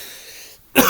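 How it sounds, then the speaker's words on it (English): A single short, close cough bursts out loudly at the end, following a moment of near silence. "you just heard me cough there"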